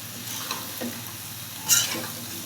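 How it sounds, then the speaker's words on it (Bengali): Vegetables for a koi fish curry with aubergine and potato sizzle in a pan while being stirred, giving a brief, close hiss with a sharp scrape and crackle near the end. "এই যে এখন হচ্ছে তরকারিগুলো দিয়ে দিলাম, দিয়ে তারপর হচ্ছে নাড়াচাড়া করে তার ঢেকে রাখবো এটা"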